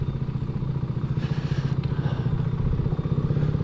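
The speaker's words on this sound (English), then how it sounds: "I'm sure we'll be fine going down here on an old BSA." An old BSA Gold Star motorcycle rides along a pedestrianised shopping street, its engine thumping in a steady low pulse that stays loud and close throughout, with no talk.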